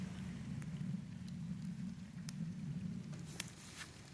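Night rain falls over a garden with a red Jamaican cherry tree, a steady close patter with occasional sharper drops hitting leaves and surfaces, no voices.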